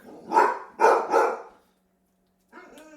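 Several dogs bark in a few quick, loud bursts close by, then fall quiet briefly before a softer yip, heard in a kitchen while raw dog food is prepared with pork.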